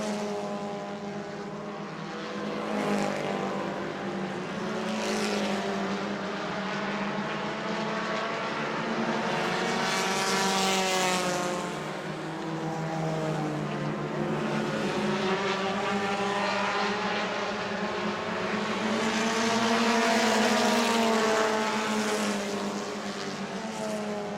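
Bomber A stock race cars roar around the New Smyrna oval in a feature event, engine notes rising and falling as the pack passes, a continuous loud drone with overlapping cars and no voices.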